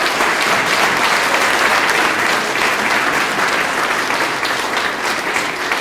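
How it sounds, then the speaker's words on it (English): A banquet audience honoring the champions of the new economy gives a loud, sustained round of applause, thick and even from start to finish with no talking over it. "Let's have another round of applause for this year's champions of the new economy."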